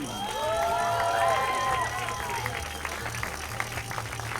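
An audience claps and cheers for ice climber Maja Šuštar-Habjan at an ice climbing final in Domžale, a steady wash of applause under a loud announcer's voice.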